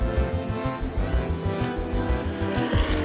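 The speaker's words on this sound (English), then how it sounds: "A deep growl goes through the grid as the engines start for race 1." GT3 race car engines starting on the grid for race 1 at Navarra in the GT Winter Series, a deep throbbing growl with pulsing low rumble and revs, loud and close throughout.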